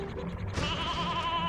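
Sheep in Banjo-Kazooie: Nuts & Bolts bleat in Banjoland, a wavering bleat that is fairly faint over steady game background sound.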